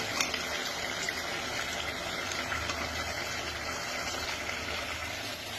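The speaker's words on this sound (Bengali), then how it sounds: "প্রেশার কুকারে মাংস কষানো হচ্ছে" Mutton braises in a pressure cooker in a dark kitchen, giving a continuous bubbling, hissing wash of sound at moderate loudness with no talk.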